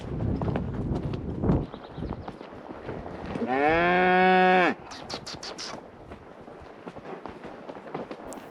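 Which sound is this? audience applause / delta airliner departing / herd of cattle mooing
herd of cattle mooing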